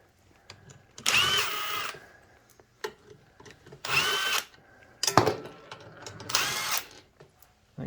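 A power drill unscrews the four bottom screws from the motor of a Burromax TT350R minibike, running in four loud, roughly one-second bursts separated by short pauses.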